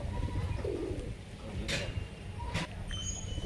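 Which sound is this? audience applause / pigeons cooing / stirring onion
pigeons cooing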